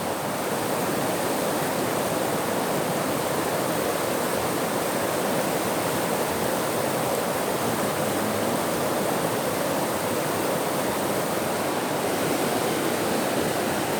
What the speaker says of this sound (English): This is where the river comes down about 10 feet, takes a 100-degree turn.